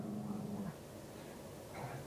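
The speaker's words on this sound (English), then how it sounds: "Oh, that's my dog." A small Chihuahua and Shih Tzu mix dog gives a short, faint whimper, a brief high whine close by in a quiet indoor room.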